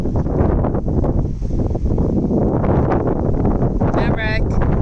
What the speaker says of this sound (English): It's windy, don't go too far.